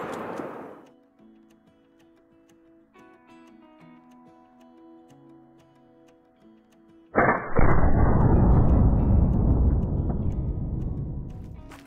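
A single loud rifle shot rings out in a Call of the Wild hunting game, aimed at a mule deer buck. The blast follows a quiet stretch of faint ambient tones, then booms and slowly decays as a long rolling echo.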